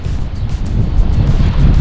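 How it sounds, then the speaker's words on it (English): Steady low rumbling wind buffeting the microphone in the small township of Hawker, loud and continuous throughout, with no voices. "and it's quite windy."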